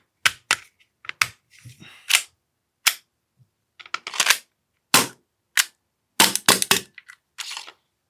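An AAP-01 airsoft pistol fires a rapid series of sharp, close, snappy shots in uneven bursts, with mechanical clicks between them and near-silence in the gaps.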